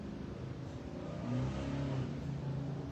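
A car engine revving somewhere outside, heard through studio walls as a steady, muffled low rumble that swells slightly midway and keeps going throughout.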